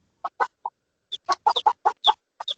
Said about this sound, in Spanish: Esa gallina y ese pollito.